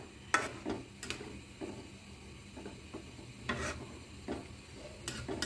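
Amra curry with milk, sugar just added, gets stirred in a pot, giving faint intermittent scraping taps and soft clinks spaced over a quiet simmering background.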